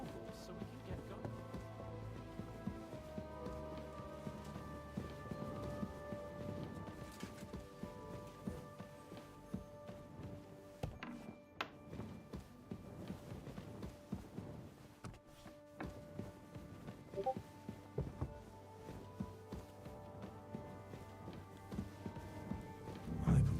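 Horse hooves in Kingdom Come: Deliverance II, a soft, fairly faint clip-clop of walking steps with irregular thuds, set against quiet game ambience over a long stretch.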